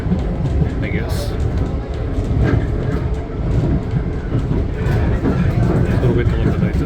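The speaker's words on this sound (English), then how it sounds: "Welcome on board the train to Mabopane station." A passenger train bound for Mabopane station, on an upgraded line out of Pretoria, South Africa, rumbles along with a loud, continuous low roar of wheels and carriage noise heard from on board, with faint clatter and brief squeaks.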